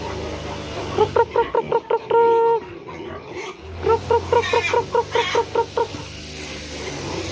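A sow grunts in quick rhythmic bursts while chickens cluck nearby; a brief squeal rises in between, all fairly close and loud.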